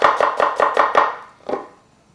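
A knife slicing through half of a small onion on a cutting board, six quick, evenly spaced close chops followed by a pause and one final cut, with no voices.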